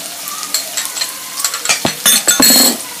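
Onions and scotch bonnet fry in hot oil for instant noodles, a sizzle that grows louder toward the end, broken by sharp clinks and scrapes of a utensil against the pan.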